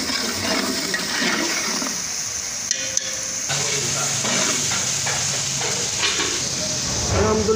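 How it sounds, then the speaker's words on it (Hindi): Masala for mutton gosht roasts in a pan with a continuous hissing sizzle, stirred with scraping movements and a couple of clicks, close and fairly loud. "मसाले को अच्छी तरह भूनेंगे"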